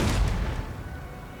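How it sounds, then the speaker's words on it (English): Battlefield artillery in Napoleon Total War booms once with a loud, deep blast that rolls away into a long rumbling decay. "shooting my own artillery, as you can see"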